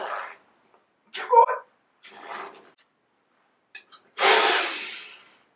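Breath exercise: a few breathy puffs, then one long, loud exhale that trails off at the end, close and alone with no talk.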